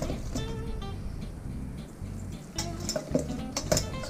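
Brussels sprouts tossed with oil and salt in a bowl make a few rattling, clattering knocks against the sides, close and fairly loud, with quieter shuffling between bursts.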